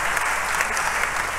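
A church congregation applauds steadily during a thanksgiving service, a dense continuous patter of many hands with no talking.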